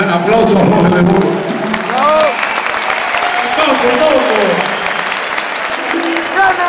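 Concert audience at a show in Chile applauds loudly and steadily, a dense wash of clapping that runs throughout, with cheering voices and a loud speaking voice carried over the top.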